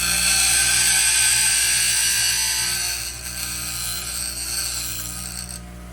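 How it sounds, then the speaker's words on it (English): Metal being ground down with a power grinder while shaping a homemade staple puller, a steady loud harmonic whine that eases off partway through, with no talking. "So, just a little grinding here."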